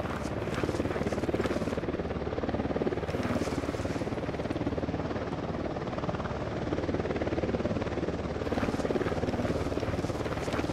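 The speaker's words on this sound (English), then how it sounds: "Chopper incoming." A helicopter in the video game Ghost Recon Wildlands drones steadily and loudly through the whole stretch, a dense whirring rotor roar with slight swells, with faint game voices underneath.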